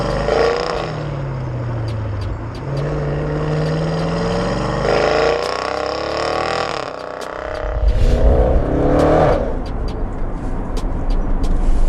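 An Audi RS6 C7 fitted with a Milltek exhaust accelerates on the road, its loud engine note sweeping up in pitch through several gear pulls, with a deeper surge and crackle toward the end; no talking over it.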